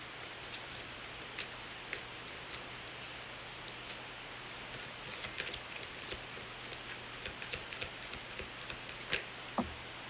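Tarot cards are shuffled close by in a quiet room, giving a run of soft, crisp riffling snaps that grow busier toward the end.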